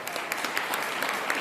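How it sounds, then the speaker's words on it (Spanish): Church congregation clapping in a short, even burst, many hands together at moderate distance with faint individual claps standing out, no voices over it. "Dale un aplauso a Dios."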